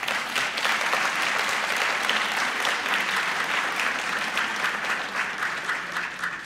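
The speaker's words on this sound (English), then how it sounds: "let's give them a round of applause for this talk." Sustained audience applause fills the room after a conference talk on calling OPA from eBPF through WASM in the kernel, a loud steady clapping that holds throughout without pause.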